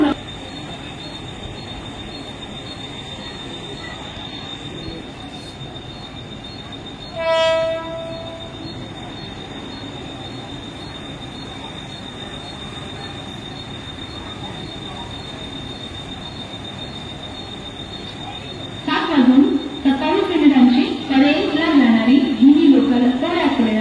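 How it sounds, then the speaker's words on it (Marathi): A Mumbai local train rumbles steadily with a short horn blast partway through; near the end, screeching wheels and a loud platform announcement rise over the noise as it arrives at the platform. "7:27 की परेल जाने वाली हिंदी लोकल थोड़े ही समय में प्लैटफॉर्म क्रमांक 2 पर आ रही है।"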